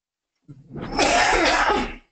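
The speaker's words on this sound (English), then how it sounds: "this is a nagging cough" A single harsh, breathy cough-like burst through a face mask, loud and close, lasting over a second with no talking around it.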